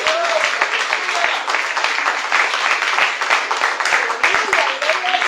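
A church congregation applauds steadily during a sermon, a dense wash of clapping with voices mixed in, sustained throughout.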